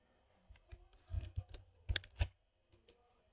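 Arrow keys are tapped on a computer keyboard in a series of soft, quick clicks, irregular, with a short cluster in the middle, close and quiet in a still room.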